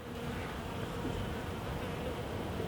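Honey bees in a UK beekeeper's hive buzz softly around a newly released queen, a steady low drone with no other sounds over it.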